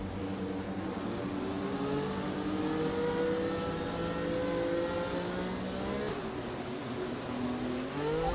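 A Formula 1 race car in the F1 22 video game pulls away, its engine note climbing through rising gear sweeps and shifting, sustained and fairly close with no talk over it.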